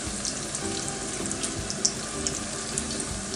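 Eggplant slices fry in oil at medium heat with a soft, even crackle and a few faint pops, held at a low level with no voices.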